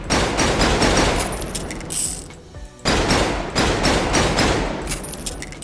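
Rapid bursts of automatic video game gunfire rattle loudly, broken by a short pause with a mechanical reload click before the shooting resumes.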